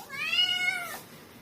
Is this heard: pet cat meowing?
yes